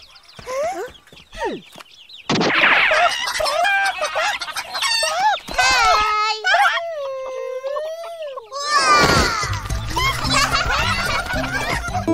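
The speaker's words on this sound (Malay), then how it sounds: "Pergi halau ayam-ayam tu masuk reban." In a cartoon, chickens cluck and squawk close by while a rooster crows loudly, with a short quiet gap and a burst of agitated flapping noises toward the end.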